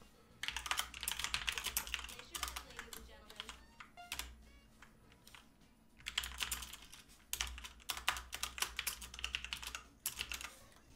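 Bursts of rapid clicking on a computer keyboard come in two main runs with a pause between, close and quiet, as a chat message is typed during a GTA San Andreas multiplayer session.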